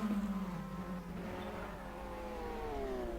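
Race cars in a virtual 24 Hours of Le Mans sim race, including a Team Moscow Porsche, with engines droning and shifting pitch as cars pass while lapping a slower car, steady and moderately loud throughout.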